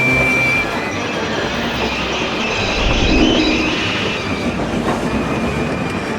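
Cartoon train engines brake hard on rails, a loud continuous rumble of wheels with a squealing, grinding edge that swells midway and carries on without letup, close and alone.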